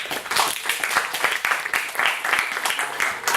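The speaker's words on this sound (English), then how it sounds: "Could we give him some claps for an outline?" An audience claps for a short stretch, a dense, even burst of applause from many hands with no voices over it.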